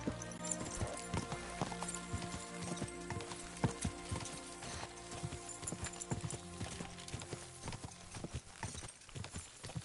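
Horse hooves clip-clop in a steady, rapid trot through the Kingdom Come Deliverance 2 video game, loud and close, with faint game ambience and music underneath.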